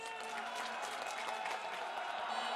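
A street crowd cheers and applauds steadily after a Constitutional Court verdict upholding an impeachment, a dense continuous roar of claps and voices heard from within the gathering.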